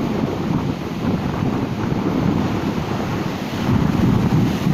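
Rough sea surf breaking on Paignton beach, a continuous loud roar of waves with heavy wind buffeting the microphone, swelling louder toward the end.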